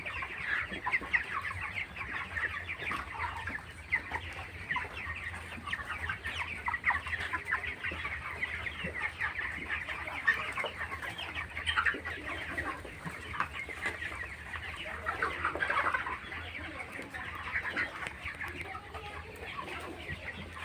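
Broiler chickens at about 24 days old cluck steadily as a flock while eating feed and drinking water on a poultry farm, a dense, continuous chorus of close and overlapping calls with no talk.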